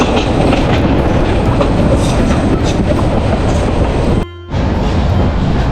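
Steady rumble and rattle of a train rolling along the tracks at Dohazari railway station, continuous and close, with a brief drop-out near the end.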